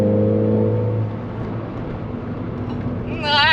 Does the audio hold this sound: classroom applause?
no